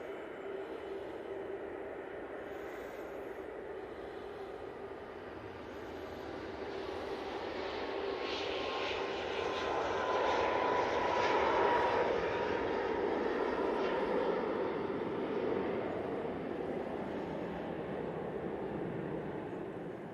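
A Ryanair airliner's jet engines roar at Manchester Airport, a broad distant rumble that swells to a peak midway and then slowly eases off.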